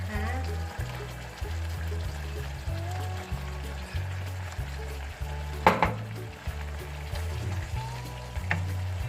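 Beef curry with bell pepper being stir-fried in a pan, a steady low sizzle with occasional spatula scrapes, running under a voice talking throughout.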